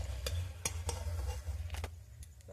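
Chicken and flour snack pieces frying in hot oil while being stirred, a steady soft sizzle with a few sharp scraping clicks from the utensil, close and fairly quiet.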